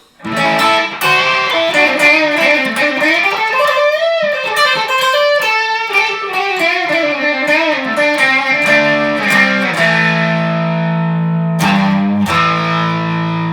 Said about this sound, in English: Now a little distortion with my Timmy pedal.